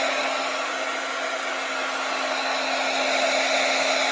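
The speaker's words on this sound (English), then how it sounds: "I'm going to dry it a little." A hair dryer blows steadily and loudly at close range while drying a craft project, giving an unbroken whooshing roar with a constant motor hum throughout.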